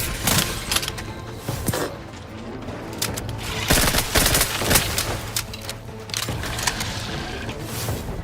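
Bursts of gunfire from a weapon in The Outer Worlds 2, loud rattling volleys of rapid shots in clusters with brief pauses, heavy and close throughout.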